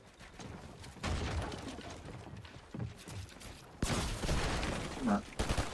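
SMG gunfire in Fortnite during the FNCS Grand Finals, with a few sharp bursts of rapid shots over busy game noise.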